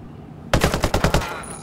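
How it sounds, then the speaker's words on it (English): Machine-gun fire in the video game Ghost Recon Breakpoint during an assault on a gas pipeline by Somali pirates, coming as one loud, close burst of about six rapid shots after a brief quiet lead-in. "Gunshots! We're under attack!"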